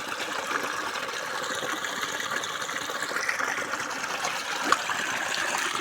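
Water flows steadily along an irrigation channel between orchard bunds, a continuous trickling rush that stays even throughout, with no voices.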